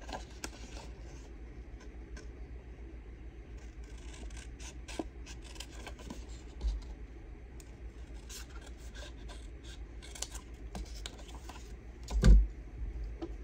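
Scissors cut out shapes from paper scraps and stamped paper at a close crafting table: quiet, intermittent snips and rustles with a brief louder bump near the end.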